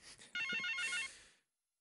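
Telephone ringing in a French drama series, a short bright electronic trill lasting about a second before cutting off into silence.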